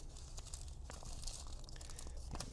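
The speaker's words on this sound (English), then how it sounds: "So let me open up the bag that we got in." A plastic shipping bag holding a Fisker Ocean key fob shell being torn and pulled open, close up, with steady crinkling and crackling plus a few sharper rips over about two and a half seconds, no speech.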